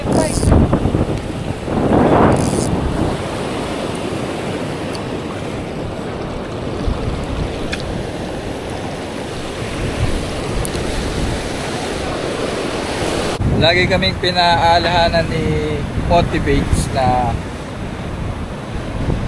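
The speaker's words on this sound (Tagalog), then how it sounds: "Nakita mo malakas na yung alon." Strong ocean waves surge and crash around a fishing boat at sea, a loud, continuous rush heavy with wind buffeting the microphone, while people talk over it.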